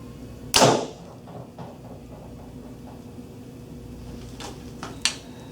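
A Hoyt Defiant compound bow, 65-pound draw weight at a 29-inch draw, releases an arrow with one sharp, loud snap that fades quickly, followed by quiet and a few faint clicks.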